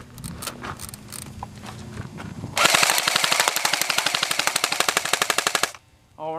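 An airsoft gun fires a long rapid full-auto burst of sharp, evenly spaced shots, loud and close, preceded by a few scattered single shots and handling noise, then abruptly stops.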